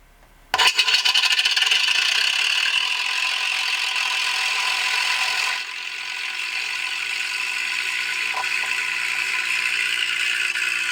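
Electric motor of a Freewing P-51D Mustang RC plane, throttle raised slightly, starts abruptly into a steady loud whirring buzz, then drops to a lower, steadier hum for the rest.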